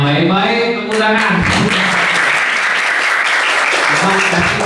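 An audience at an Islamic boarding school talk breaks into loud, dense applause that holds steady for several seconds, filling the room without any speech on top.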